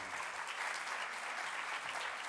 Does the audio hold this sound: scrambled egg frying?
no